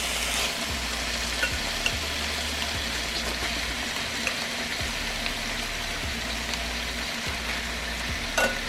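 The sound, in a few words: chicken breast browning in a pan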